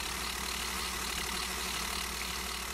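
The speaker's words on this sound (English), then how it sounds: "The engine starts to sound kind of derpy there towards the end." A steady low tractor engine idling continuously in the video game Farming Simulator 2013, even and droning without breaks, with no voices.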